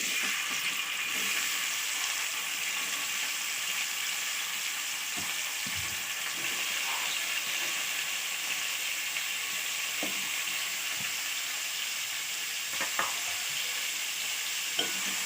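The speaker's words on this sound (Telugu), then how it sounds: "ఆయిల్ వేసేసుకున్నా. ఇప్పుడు ఉల్లిగడ్డలు వేసుకుంటున్నా." Chopped onions frying in hot oil in a pan for an egg curry give a steady, even sizzle, with a few soft stirring scrapes and no one speaking.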